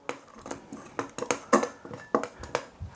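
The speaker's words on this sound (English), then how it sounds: "Give it a stir." Chicken coated in corn flour gets stirred in a bowl, making a quick run of close, soft clicks and scrapes in an uneven rhythm, alone and quiet.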